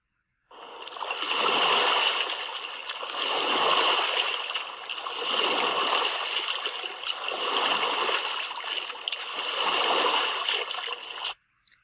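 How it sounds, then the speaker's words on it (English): A rowing boat sound effect: rhythmic water swishes and splashes from oar strokes, about five long surging strokes in steady succession, fairly close and continuous, with no voices. "So we have a rowing boat."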